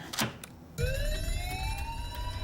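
A hotel fire alarm starts ringing after a sharp burst of noise, its rising electronic wail sustained and loud over a low rumbling background.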